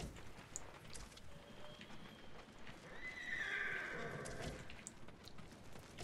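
Horses in the video game Ghost of Tsushima neigh and whinny over clip-clopping hooves, with a louder, drawn-out whinny in the middle and soft scuffing and clatter around it.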